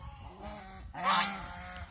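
Domestic geese on a small goose farm in Mohanganj give a few honks, with one loud, close, raspy honk standing out around the middle of the short stretch.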